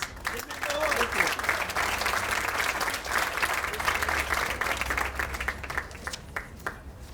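Audience applause welcoming Jim Hendricks, COO of Visual Persuasion, at the Moore Center's annual garden party: steady, dense clapping from a sizable crowd, sustained for several seconds before tapering slightly at the end.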